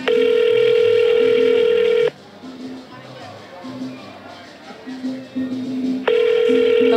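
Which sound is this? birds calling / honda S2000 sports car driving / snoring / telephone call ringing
telephone call ringing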